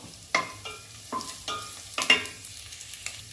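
Nuts such as pistachios, pumpkin seeds, peanuts and almonds roasting in a pan, with a few sharp scraping stirs and soft crackling at close range and no talk.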